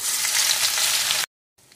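Nigella seeds hit hot mustard oil in a wok with a loud, bright sizzle that crackles steadily, then cuts to silence before a fainter sizzle returns.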